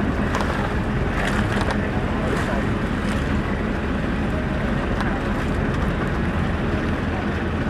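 A steady low engine drone and rushing wind and water fill the whole stretch, like a motorboat running across open sea off Marinduque, with faint voices underneath.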